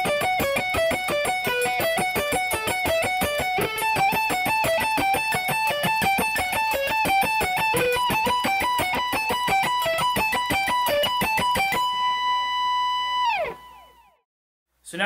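Electric guitar plays the bridge of Etherius's "The Inevitable End", a loud, steady run of fast picked notes that ends on one sustained note, which fades to silence.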